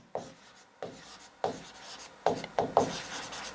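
A marker or chalk writes on a board in a maths class, giving short scratchy strokes in bursts of about six, spaced irregularly and then quicker toward the end, close by with no speech.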